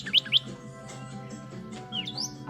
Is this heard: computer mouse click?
no